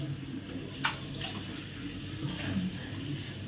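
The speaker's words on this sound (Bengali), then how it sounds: "আর এখন কল থেকে না একটা গরম জল বেরোচ্ছে, যেটাকে বলে না লিউক ওয়ার্ম ওয়াটার, মানে সুষুম গরম জল, সেই জলটা বেরোচ্ছে এখন।" Lukewarm water runs from a home tap into a sink with a steady, moderate splashing hiss and a few faint knocks on top.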